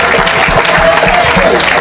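An audience applauding at an evangelistic gathering led by Evangelist JP Makanzu: steady, dense clapping from a crowd, continuous and fairly loud throughout.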